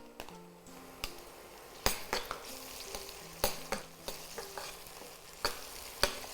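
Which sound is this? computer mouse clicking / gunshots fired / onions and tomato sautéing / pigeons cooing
onions and tomato sautéing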